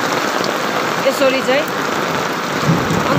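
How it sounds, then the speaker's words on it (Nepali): Hail and icy rain pour down in the village of Latpanchar, a dense, steady patter across the whole stretch while a person talks over it. "असिना पानी परेको छ"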